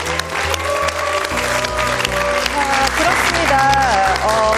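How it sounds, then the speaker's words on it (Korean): Audience applause after a lecture at a televised talk show, steady clapping from a crowd mixed with background music and tones, building slightly louder toward the end. "오늘 멋진 강연 들려주신 우리 김진명 작가님께도 박수 부탁드리겠습니다."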